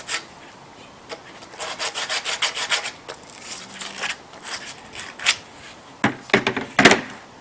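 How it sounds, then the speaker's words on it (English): Freshly cut pipe for a homemade ram pump is hand-sanded to remove burrs. Close, rhythmic rasping strokes come in bursts, then a few sharper scrapes. "So now we're just going to give it a sand. Get all the extra little burrs off there."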